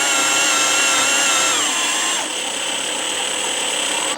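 A Turbosawmill's motorized vertical sizer drives down on a 12-inch beam saw, giving a loud, steady mechanical whine whose pitch glides downward, then settles into a lower, constant drone.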